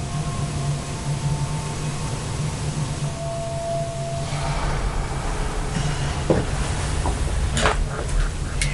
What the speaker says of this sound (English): That water running through the pipes kind of has almost a humanoid sound of it at times too